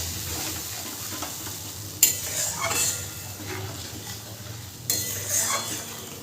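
Spice paste for a Bengali hilsa curry is stirred in a sizzling frying pan, with spatula scrapes surging in short bursts over a constant close frying hiss.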